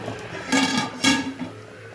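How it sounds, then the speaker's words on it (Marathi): A metal lid set onto a cooking pot of simmering fish curry on a gas stove: two close, ringing clanks about half a second apart, then a short settling rattle. "आता याच्यावर आपण छान झाकण ठेवूया"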